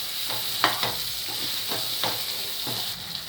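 Brinjal frying in oil in a pan sizzles steadily and softly while being turned over, with several short scraping spatula strokes at an uneven rhythm.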